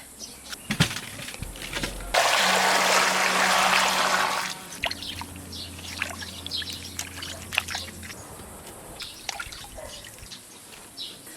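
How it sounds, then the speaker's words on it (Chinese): Freshly picked cucumbers being washed for pickling, with a burst of running, splashing water followed by intermittent drips and sloshing, birds faintly calling in the background. "现在我就洗一下，再用盐一腌，晒出个。"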